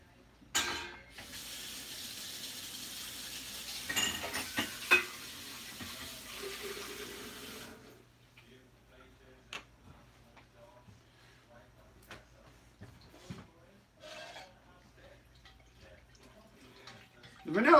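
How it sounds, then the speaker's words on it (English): A kitchen whisk is rinsed under a running tap, a steady rush of water into the sink for several seconds, then faucet off and scattered drips, clinks and small handling knocks. "Let me clean off my whisk."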